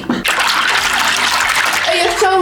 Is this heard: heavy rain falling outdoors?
no